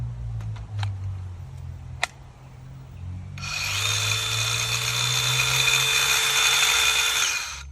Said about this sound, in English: Run it for a bit, and then also test it on some scrap material